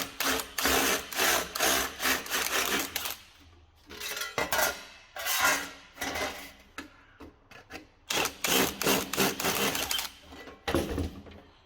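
A blunt step drill bit grinds through a piece of metal in loud rasping bursts, stopping and restarting several times with short quiet gaps, during work on a Ford Transit.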